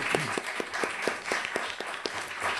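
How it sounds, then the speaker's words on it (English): Steady audience applause at a town council meeting, with many hands clapping at once and individual sharp claps standing out in an even, sustained patter. "That's where the loud applause came from."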